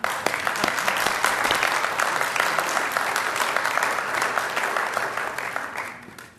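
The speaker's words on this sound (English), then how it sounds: "So now you can all give each other a round of applause." A city council meeting audience in Temecula claps together, a dense, steady round of applause that holds for several seconds before thinning out near the end.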